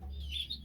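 Caged birds in a bird shed give a few faint, high chirps close by over a low background hum, with no talk.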